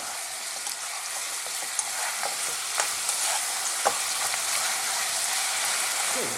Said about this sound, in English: So we're going to throw these around for a minute or so on a kind of medium to high heat, just to coat all of the ribs